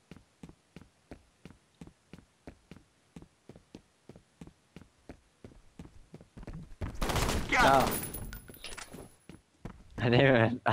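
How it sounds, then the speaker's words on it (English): Bursts of gunfire from the shooter F.E.A.R. during a deathmatch on the Factory map, loud broadband blasts after a long run of steady soft ticking, with a voice talking over part of it. "it made the firing sound effects a good second after you get out from there"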